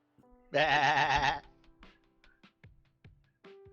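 A person imitates a sheep's bleat, one loud wavering bleat of about a second, followed by quieter scattered talk and clicks.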